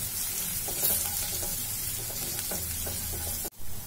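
Six or seven garlic cloves and a half-inch piece of ginger sizzle steadily in hot oil, with faint stirring scrapes throughout before an abrupt cut near the end.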